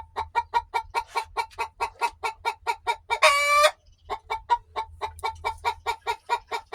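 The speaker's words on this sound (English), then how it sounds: "That's her She's Laid an Egg song." A hen sings her egg-laying song after laying, a steady run of loud, evenly spaced clucks close by, broken briefly by a harsher, higher squawk before the rhythmic clucking resumes.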